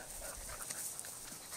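Norwegian Elkhound dogs pant steadily and close by, a continuous breathy rasp running throughout with no talking.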